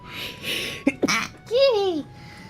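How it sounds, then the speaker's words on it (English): A single sneeze from a person during a drawing session indoors, a sharp close burst followed by a brief sniffly vocal trailing off, with light noise around it. "I sneezed"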